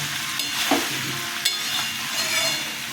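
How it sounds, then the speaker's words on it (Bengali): Potatoes and vegetables sauté with spices in a pan for a soybean and potato curry. A steady sizzle runs throughout, with a few spatula scrapes and a brief clink. "সবজিও মশলার সাথে দেওয়ার পরে ভালো করে কষিয়ে নিতে হয়।"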